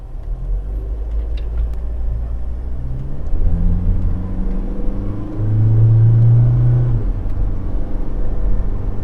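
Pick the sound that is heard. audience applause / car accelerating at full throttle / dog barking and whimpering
car accelerating at full throttle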